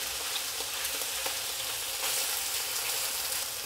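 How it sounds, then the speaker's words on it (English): Chicken pieces spread in one layer sear in a very hot wok, a loud, dense, even sizzle close by with faint crackles, no talking over it. "So I'm just letting it sear,"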